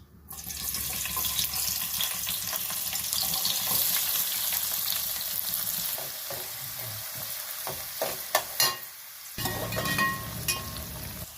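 Onion pieces fry in hot oil with mustard seeds and fenugreek in a pan for a village-style pond fish curry, giving a steady close sizzle with stirring clatter toward the end.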